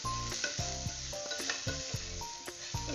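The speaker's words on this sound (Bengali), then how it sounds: "এবার আমি এটাকে একটু ভেজে নেব, খুব বেশি ভাজবো না, সামান্য একটু এপিট ওপিট করে ভেজে নেব।" Drumstick (moringa) pieces fry lightly in a pan for a pickle, with a steady close sizzle broken by repeated clinks and scrapes of a spatula turning them.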